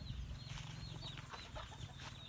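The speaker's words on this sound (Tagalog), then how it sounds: "Meron dito si Papang Manok na Amerikano, pang sabong na manok." Broiler and American fighting-cock chickens clucking softly at a distance, with scattered short calls over a low, steady background hum and no talking.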